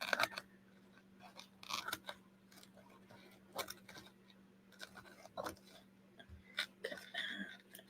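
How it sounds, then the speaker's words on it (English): Small scissors snip along the edge of a box as mermaid-themed journal decoration material is trimmed, giving a series of crisp, close clicks and cuts at an irregular pace over a steady low hum. "Also using my little scissors because it helps me get really close to the edge of the box."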